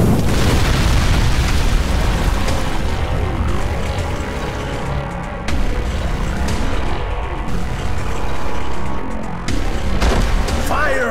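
Meteor explosions in the video game Ninja Gaiden Z: a dense, loud barrage of booming blasts and rumbling bursts that keeps going without a break, with game effects layered over it.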